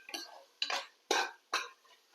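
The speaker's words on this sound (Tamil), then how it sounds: "இந்த அளவுக்கு நம்ம நல்லா கிளறி விட்டுடலாம்" Four separate bursts of scraping and clinking as a spoon stirs sautéed mushrooms in a pan for Chettinad biryani, each stroke loud and close, with short pauses between them.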